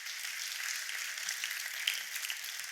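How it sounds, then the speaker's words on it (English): Faint, thin applause from an audience at a women's tech conference as panelists take the stage, steady distant clapping with no voices over it. "Give a big applause to Karin, Marian, Janneke,"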